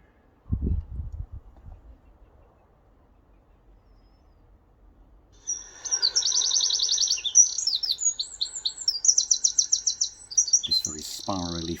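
A wren delivers a fast, spiralling song of rapid high trills and chirps from midway on, after a low thump and near silence at the start.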